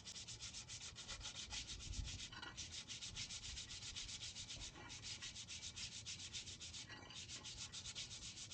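Sandpaper rubbing steadily over a metal bicycle brake drum being cleaned, a continuous loud scraping with rapid back-and-forth strokes and a couple of brief pauses, no voices.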